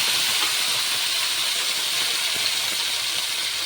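Spice paste sizzles steadily in hot oil that already holds fried nigella seeds, cooked for a chapila fish curry; a loud, close, continuous hiss runs throughout with no talking.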